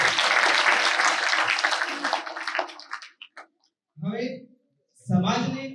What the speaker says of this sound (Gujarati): અભિવ્યક્તિથી ભરપૂર આ સ્વાગત ગીત માટે ફરીથી જોરદાર તાળીઓ થઈ જાય.